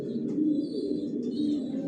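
Racer pigeon chicks cooing softly inside a new loft, a steady low murmur of several young birds with faint higher chirps, close and continuous.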